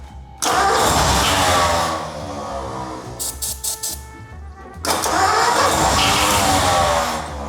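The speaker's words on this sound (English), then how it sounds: "it engages and then it releases and the starter keeps spinning" A Thunderbird's engine, unused for years, roars, dies away, then the starter motor cranks in quick repeated bursts before the engine catches and revs loudly again; it won't stay running.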